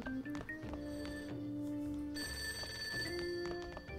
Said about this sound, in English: Okay, the phone's ringing.